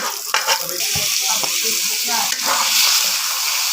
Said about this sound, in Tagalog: ginigisa ko na ang sibuyas at bawang